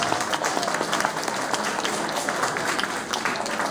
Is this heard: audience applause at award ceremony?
yes